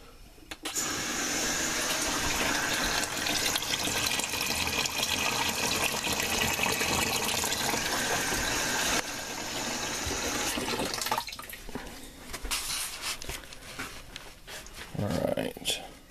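A solar-powered off-grid clothes washing machine, hooked up to a sink, runs loud and steady as water rushes in for about ten seconds, then the flow cuts and quieter clunks and rustles follow.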